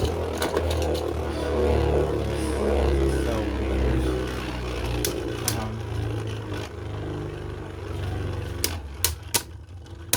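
Beyblade spinning tops whir and scrape in a plastic arena after launch, a continuous rattling buzz punctuated by sharp clacks of collisions that grow sparser as the tops slow down.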